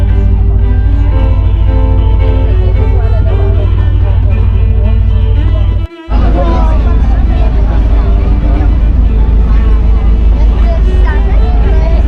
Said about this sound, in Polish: Ale żagli nie rozwijamy, mamy silnik spalinowy.